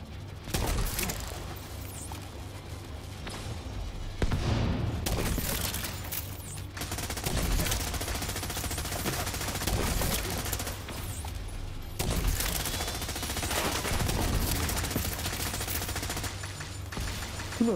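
Rapid sustained gunfire from the video game Tom Clancy's The Division 2 rattles almost continuously in dense overlapping bursts, with a few short lulls between volleys.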